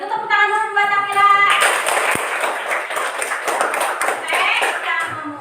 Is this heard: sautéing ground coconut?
no